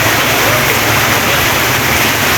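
Floodwater rushing after two days of rain, a loud, steady, broadband roar of flowing water close by, continuous without breaks and with no talking over it.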